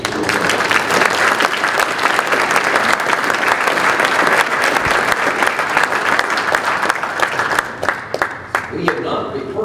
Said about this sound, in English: let's recognize all these folks with your applause